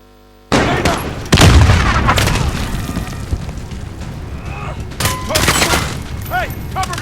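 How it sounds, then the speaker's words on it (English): A grenade explodes in a Call of Duty Modern Warfare firefight with a loud, deep boom, followed by scattered gunfire bursts and combat clatter while soldiers shout callouts throughout. "Grenade out!"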